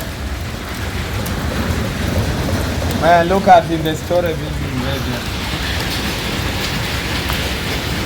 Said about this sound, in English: Rains are crazy. This is the rain.